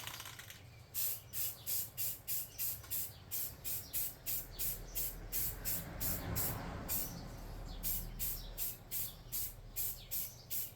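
Short bursts of a spray can laying down a black base coat on a futuristic tabletop-game parts pile, a steady rhythmic series of close, hissing pulses with a longer continuous spray in the middle and brief pauses between.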